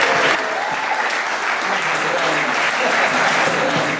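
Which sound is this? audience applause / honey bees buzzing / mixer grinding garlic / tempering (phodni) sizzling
audience applause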